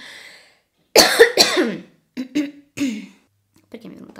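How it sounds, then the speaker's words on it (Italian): Someone coughs in a short burst of two or three harsh hacks, followed by a few scattered smaller throat sounds, close and fairly loud amid pauses. "Perché mi è venuta la tosse?"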